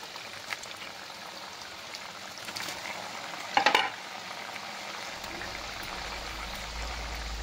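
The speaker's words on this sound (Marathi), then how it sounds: "आता हे तेलात सोडून घेऊ आपण, पण थोडे थोडे टाकायचे, म्हणजे एकमेकाला चिटकत नाहीत आणि मग छान तळून निघत येतं" Shankarpali dough pieces drop a few at a time into hot oil and deep-fry with a soft, steady bubbling sizzle, broken by one louder splash-crackle midway, all fairly quiet and close.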